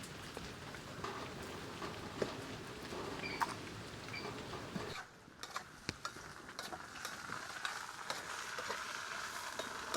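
Jackfruit sizzles and crackles steadily while frying in a pan, with a brief quieter gap midway before the dense spitting resumes at a moderate level.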